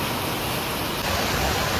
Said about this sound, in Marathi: धुकं नाही तर हे मुसळधार पाऊस आहे